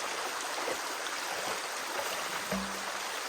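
Water splashes over a part rinsed during hand disassembly while gold prospecting, a steady wash of running water throughout with a brief low thump near the end.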